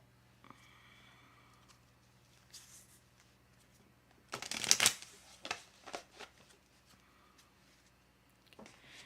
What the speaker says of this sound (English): Shuffling for you, Grayson.